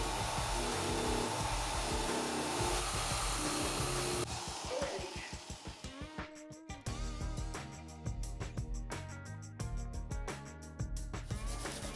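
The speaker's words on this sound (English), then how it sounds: "I'm going to sand away the damaged fiberglass and remove all the loose parts" A power tool grinds away damaged fiberglass around the cracked nose of a surfboard during a ding repair, starting as a steady loud whine, then breaking into rapid pulsing bursts and uneven grinding toward the end.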